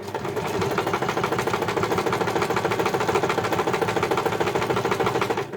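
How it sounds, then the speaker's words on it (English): Sewing machine stitching around the edge of a piped cushion cover, a fast steady rhythmic needle chatter running continuously at close range, alone without talk. "we're basically just going to sew all the way around now, which will stitch the front and the back edges together"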